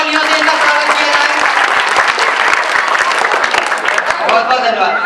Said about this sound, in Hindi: एक बार जोरदार तालियों से इनका स्वागत किया जाए।